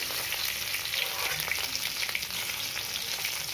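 Hilsa fish frying in oil in a wok, a steady dense sizzle and crackle holding evenly throughout with scattered brighter pops, close and fairly loud, with no voices.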